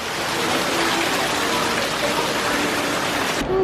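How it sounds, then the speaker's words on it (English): A decorative waterfall at a Prada shop in Singapore pours as a constant, close hiss of splashing water that holds evenly throughout before cutting off at the very end. "Prada waterfall."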